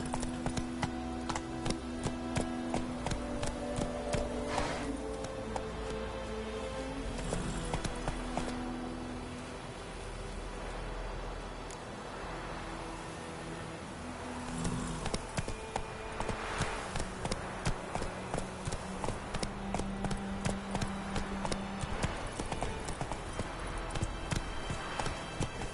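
Steady, rhythmic clip-clop of a horse's hooves as it is ridden along in The Witcher 3, close and even-paced over a backdrop of game music with no talking.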